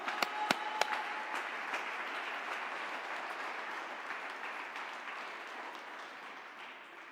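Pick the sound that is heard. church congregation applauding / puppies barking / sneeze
church congregation applauding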